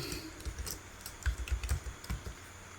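Computer keyboard typing while entering a number into a Word document, a quick uneven run of close, light key clicks and taps with no voices.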